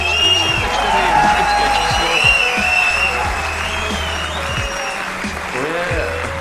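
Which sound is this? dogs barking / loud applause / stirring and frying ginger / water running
loud applause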